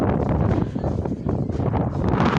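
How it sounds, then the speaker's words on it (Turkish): Strong wind at Çamlıca Tower buffets the microphone in a steady, rough roar with gusty swells, loud and close throughout. "Yine rüzgar var, yine rüzgar var."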